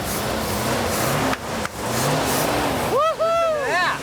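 A Dodge Coronet convertible engine is fired up and settles into a steady, close throaty rumble, with a voice whooping excitedly over it near the end.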